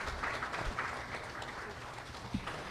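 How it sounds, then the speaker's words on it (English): Faint, steady applause from an audience for the President at a formal government event, a soft continuous patter of clapping with no speech over it. "Let us give the President a round of applause."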